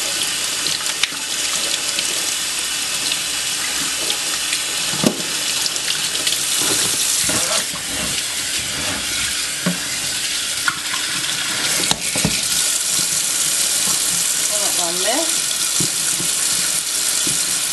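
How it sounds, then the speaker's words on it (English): Water runs steadily from a tap rinsing seafood, splashing continuously, with occasional clinks and knocks of objects in the sink. "rinse some of that out real good"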